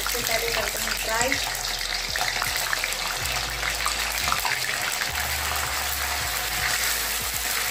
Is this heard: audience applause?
no